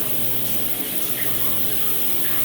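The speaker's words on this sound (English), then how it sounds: "The pump came on. You can see there's water coming out" Water sprays from the sprayer head of an aerobic septic system as its pump runs outdoors, a steady loud hiss and gush that continues unbroken throughout.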